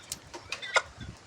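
Country hens cluck in short bursts on a Tamil village property, a few close, quick calls over a quiet outdoor background.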